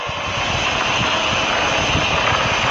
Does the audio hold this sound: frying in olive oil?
no